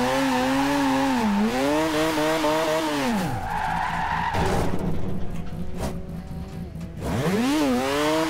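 A Mazda drifts in the Forza Horizon 2 racing game, its engine revving loudly and swooping up and down in pitch while the tires squeal and skid continuously.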